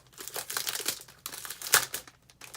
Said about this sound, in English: I'm going to take a piece of copper. And I'm going to cut it off